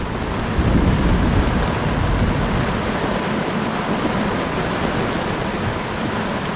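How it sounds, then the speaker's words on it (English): Heavy rain pours steadily around a sailboat near a Jamaican bay during a thunderstorm, a dense, even hiss with low thunder rumbling underneath; no voices. "It's kind of heavy rain, but the thunder is decreasing a little bit, maybe."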